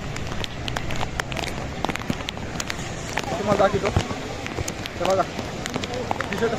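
Rain pouring steadily outdoors near a waterfall at Lonavala, a broad continuous wash of falling water with scattered droplet patter, while people talk intermittently over it.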